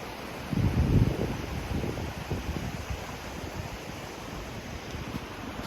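Ocean surf and wind at Short Sands Beach on the Oregon coast form a steady, broad rush, with wind buffeting the microphone loudly near the start before settling into a constant roar.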